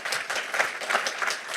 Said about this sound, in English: A big round of applause for Michael So and Tokenyze.